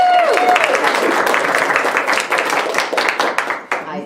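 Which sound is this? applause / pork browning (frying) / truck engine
applause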